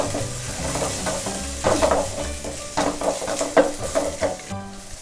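Chopped green chilies sautéing in a pan for idli chutney: a steady sizzle with repeated scraping stir strokes of a spoon against the pan, close and moderately loud, no voices.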